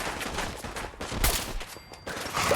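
Rapid gunfire bursts from a Fallout 4 firefight land close and loud in a quick cluster, with a sharper crack standing out near the middle, all without any talk over it.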